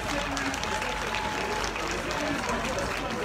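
Audience applause at a charity concert held to rebuild Ngouache, a dense, continuous roar of clapping from a large crowd with voices mixed in throughout.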